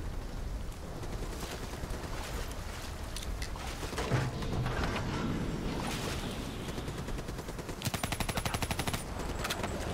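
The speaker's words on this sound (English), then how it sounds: "Gosh, the recoil on this gun is horrible." Gunfire from a weapon with heavy recoil in the video game Call of Duty Black Ops 3, rapid automatic bursts recurring through the scene with a dense volley near the end, over steady battle ambience.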